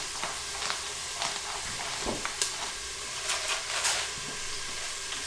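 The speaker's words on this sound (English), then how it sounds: "I love sauteed onions." Onions sautéing in a pot, a steady sizzling hiss broken by intermittent crackles and spatters, close and moderately loud.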